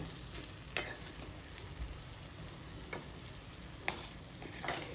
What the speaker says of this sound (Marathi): हा बघा, हा चांगला असा परतवून घ्यायचा आहे आपल्याला